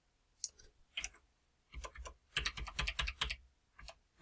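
Arrow keys pressed on a computer keyboard, close crisp clicks coming singly at first and then in fast clustered bursts.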